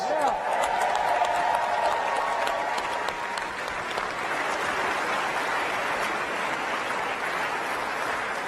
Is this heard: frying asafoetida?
no